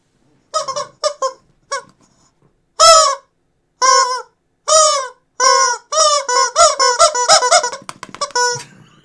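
Chickens clucking and squawking in a lively sequence of short bursts, rising into a rapid run of squawks toward the end, loud and close with no talk.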